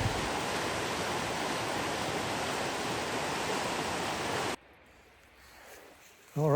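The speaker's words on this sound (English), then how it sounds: "We got some moving water." Moving water of a stream along the Appalachian Trail between New York and Connecticut, rushing in a steady, even wash that cuts off abruptly partway through, leaving quiet before a short burst returns.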